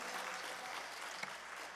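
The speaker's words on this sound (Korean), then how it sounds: "우리 하나님 앞에 영광의 박수 올려드립니다." A church congregation at a Korean prayer retreat applauds, with steady dense clapping from many hands filling the room at moderate volume throughout, with no voices over it.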